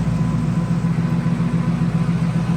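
A modified 2014 Ford Mustang GT engine idling steadily, a loud low rumble with an even, pulsing hum and no change in pitch.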